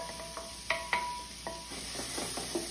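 Onion going into hot ghee in a cooking pot, with a few sharp clinks and stirring knocks over a steady low sizzle, close up and fairly quiet, no talking.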